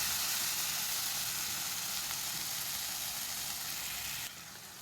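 Steady low-heat sautéing of an egg gravy mixture with chili powder, a soft continuous sizzle and frying hiss that holds level before dropping a little quieter near the end, with no talking.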